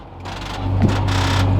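A Ferrari race car engine fires up on ignition, a low steady mechanical rumble with a sustained hum that swells slightly partway through and then holds loud and close.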